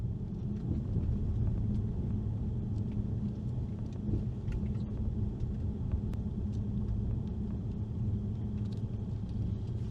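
A car drives down a fairly steep, narrow road toward Ransvik in southern Sweden, with a continuous low rumble of engine and tyres heard from inside the vehicle and no talking.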